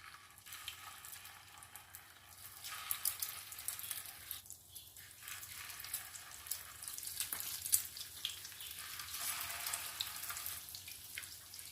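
Aloo daal kebabs dipped in egg fry in hot oil in a pan, a steady close sizzle with crackling pops and small spatters running throughout with no talk.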